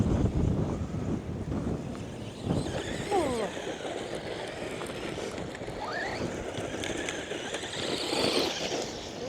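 Strong outdoor wind buffets the microphone with a loud, continuous low roar on a lawn during a run of a Traxxas Mini Maxx RC truck, with faint motor whines rising briefly above the gusts.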